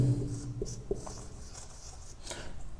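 Scratchy strokes of writing on a board during a maths lesson, several short faint rubbing bursts in quiet surroundings.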